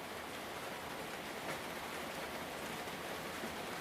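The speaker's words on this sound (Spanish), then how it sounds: "escuchando la lluvia caer" Steady rain falls continuously, a dense even hiss of drops on surfaces with no pauses or other sounds, heard alone at a soft, constant level.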